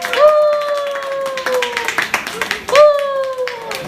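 A small audience at an evening talk event claps briefly while a sustained whistle-like tone glides downward twice, and voices carry over the noise.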